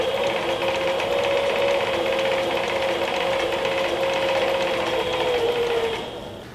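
A Sailrite mini walking foot sewing machine runs steadily through leather, a close, even whirring hum with a fast ratcheting needle clatter lasting about six seconds before it winds down.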